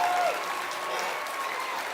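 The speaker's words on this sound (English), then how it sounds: "Give him a nice big round of applause." A crowd at the North Idaho State Fair goat and swine showmanship finals gives a smooth wash of applause for a fourth-place young handler, steady and moderately loud in a large arena.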